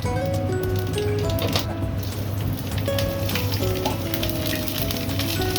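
Nigella seeds sizzling in oil rendered from hilsa fish, a dense continuous crackle and spatter up close, with scattered sharp pops and no talking.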